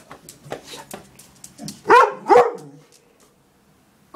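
A hungry pet dog barking indoors, with a few light yips and then two loud close barks, the sound trailing off into quiet.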